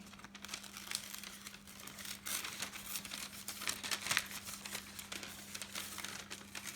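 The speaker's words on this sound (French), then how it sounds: "C'est facile à découper ma main." Paper being handled and cut into a hand shape for a Mother's Day craft, with soft crinkling and rustling close by and a faint steady hum underneath.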